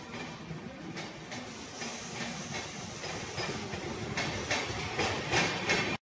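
A Dadar Shirdi Sai Nagar Express passenger train runs on a night journey from Mumbai toward Ahilyanagar, with a steady rumble and rattle of carriages on the rails throughout, building slightly louder toward the end.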